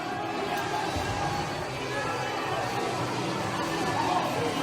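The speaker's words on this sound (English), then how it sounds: "And the crowd here at Merrimack College gets that much more into it." Crowd noise fills an arena at a hockey playoff game at Merrimack College, a steady dense chatter and hubbub running throughout without clear cheering peaks.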